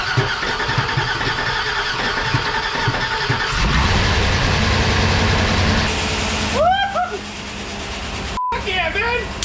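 A 2006 Chevrolet Silverado truck engine cranks and catches, settling into a rough, loud idle close by, with excited voices and a few sharp sounds over the running engine.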